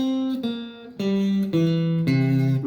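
C dominant 7th arpeggio on a sustained-tone instrument: five clean notes played one after another at an even pace, ringing clearly with no talking.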